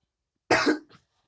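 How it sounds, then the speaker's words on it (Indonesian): A single short cough from a lecturer, close and dry in a quiet room, with a small trailing catch after it. "saya agak batuk"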